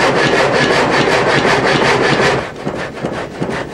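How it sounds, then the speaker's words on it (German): A water-turbine-driven mill saw cuts through a log with a dense, continuous rasping drone of wood being sawn, steady and loud for most of the stretch before easing slightly near the end. "Mit der linken kuppelt er den Seilzug ein, der den Stamm in die Säge zieht."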